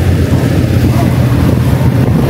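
Steady, loud wind rush and low engine rumble on the front deck of a moving cruise boat near Kuala Lumpur, constant throughout with no distinct events.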